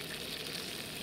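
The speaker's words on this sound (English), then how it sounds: "Sizzle's nice too, doesn't it?" Bacon frying in a pan outdoors in the morning at a fishing spot, a steady, close crackling sizzle with no talking.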